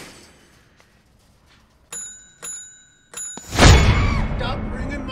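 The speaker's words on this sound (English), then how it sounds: "Stop ringing my damn bell!" A bell rings three times with clear, ringing dings, followed by loud, close voices and commotion.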